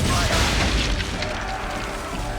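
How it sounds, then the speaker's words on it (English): Deep booming explosions from old powder barrels hit by swivel gun fire in the naval game Assassin's Creed III, a heavy rumbling burst that rolls and fades over a couple of seconds. "Hit those old powder barrels and light up the sky"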